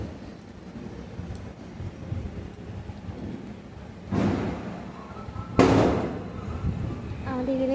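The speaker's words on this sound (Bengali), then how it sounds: "আমাদের এখানে খুব বাজি ফাটছে।" Firecrackers burst nearby during a puja festival while a blouse is being cut at home: two sharp, loud bangs about a second and a half apart stand out over a steady low background rumble.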